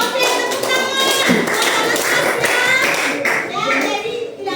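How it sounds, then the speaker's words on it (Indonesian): Classroom applause as pupils clap their hands together after a quiz answer, a dense, steady patter of many claps lasting several seconds, with a voice mixed in. "Oke, tepuk tangan."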